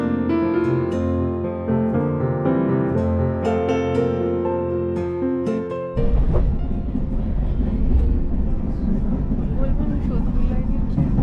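Steady rumbling and clatter of a first class train carriage riding from Colombo to Kandy, loud and close, taking over after several seconds of music.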